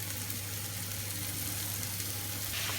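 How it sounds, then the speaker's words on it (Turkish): Ground meat frying in a pan for Turkish patlıcan oturtma, a steady close sizzle with a low continuous hum underneath and no pauses. "Kıymayı ilave ediyorum. Biraz da kıyma kavrulacak."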